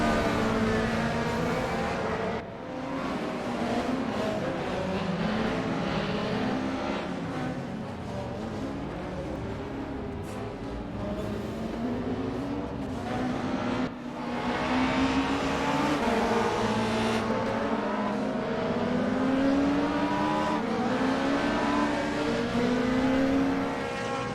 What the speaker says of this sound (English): These cars all sound great, by the way.